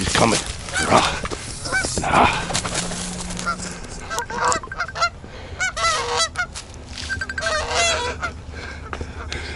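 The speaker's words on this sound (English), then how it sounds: "Hold on, I'm right filming with these geese. Getting attacked by this gander." Loud, repeated goose honking close by, harsh and agitated, as a gander attacks, with flapping scuffles and a voice talking over the commotion.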